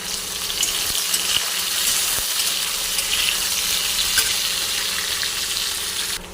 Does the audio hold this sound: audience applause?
no